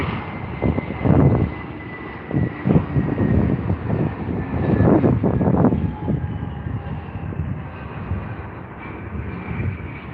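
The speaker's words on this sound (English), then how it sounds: "Again, a very gentle touchdown and arrival into London Heathrow. Oh, it's a Delta A320." A Delta Airbus A320 lands at London Heathrow: a broad, steady engine roar with surging rumbles and a thin whine on top, heard outdoors at moderate distance with no talk.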